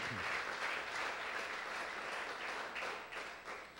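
A church congregation claps together in steady, sustained applause during a Spanish-language sermon, the clapping full and even before tapering off slightly at the end.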